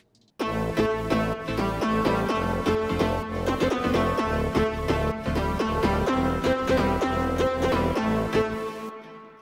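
Dense electronic music with a thick, buzzing synth bass running under steady rhythmic hits and a bright melodic line, loud and continuous before fading at the end.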